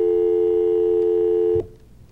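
A telephone busy signal on a live call-in health show, a steady loud tone that holds for about a second and a half before cutting off abruptly into quiet line hiss.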